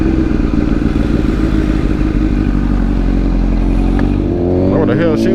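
A motorcycle rides through hot, crowded city traffic, its engine a loud, steady close drone that shifts pitch near the end as it changes speed.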